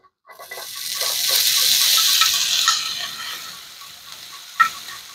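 Chopped half onion hitting a generous drizzle of hot oil in a pan, a steady broad hiss of sizzling building and holding with faint crackles, plus a brief clink near the end.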